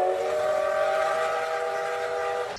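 A coal-powered steam train sounds a long, steady whistle with layered tones, loud and close throughout, with no voices.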